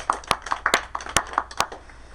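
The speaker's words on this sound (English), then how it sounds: "So give yourselves a round of applause, won't you please?" A handful of scattered hand claps from a small audience at a poetry reading in a Barnes & Noble store, sparse and uneven rather than a full ovation, with faint voices in the room.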